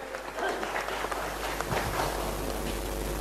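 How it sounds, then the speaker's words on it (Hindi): Audience applause at a school results ceremony in Surajpur district, a few seconds of moderately loud, uneven clapping in a hall. "जोरदार तालियां होनी चाहिए।"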